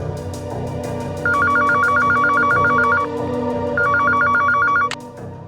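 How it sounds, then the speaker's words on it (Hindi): Landline telephone ringing in two bursts of rapid electronic trills, steady and fairly loud over a low background music bed in a crime drama scene. "अब फोन किया है लैंडलाइन से।"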